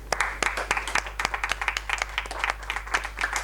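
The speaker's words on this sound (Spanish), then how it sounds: "Un aplausito, ¿no?" Small audience claps for a poetry reading, with a short burst of distinct, fairly close handclaps in an uneven rhythm over a steady low hum.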